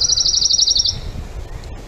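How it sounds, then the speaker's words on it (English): A single pine warbler sings a fast, even trill of rapid repeated notes, clear and fairly close, lasting about a second before fading into faint background noise. "So this is what a pine warbler sounds like here"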